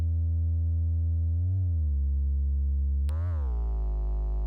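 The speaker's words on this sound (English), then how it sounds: "basically a sine wave, and let's just mess with the wave table position so we get a little bit more dirt on it" A synth bass tone, close to a pure sine wave, holds steady and loud. Its wavetable position is pushed to add a gritty edge, and the pitch briefly bends down and back twice. No voices.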